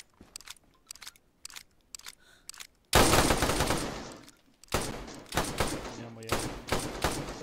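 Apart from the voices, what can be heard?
gunfire in DayZ video game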